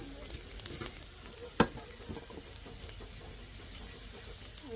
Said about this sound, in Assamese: পিচি লোৱা ভেদাইলতাৰ ৰসখিনি দি দিম।